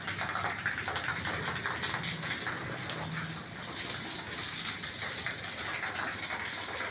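Water pours steadily during bathing, a continuous hissing splash close by with no break throughout.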